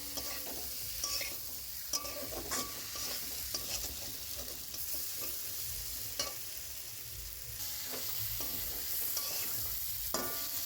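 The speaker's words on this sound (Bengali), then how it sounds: "ভালো করে কষিয়ে নেব।" Spice masala for fish curry is stir-fried in a pan, making a continuous close sizzle with frequent scraping and stirring knocks throughout and no talk.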